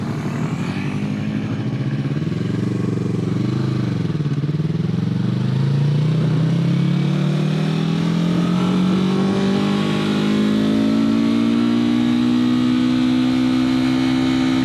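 Loud, close motorcycle engine from a Yamaha R3 and a Honda Ruckus riding laps on a hot day. The tone climbs steadily as the bike accelerates, with no talking.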